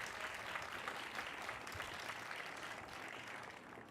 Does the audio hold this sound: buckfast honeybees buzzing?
no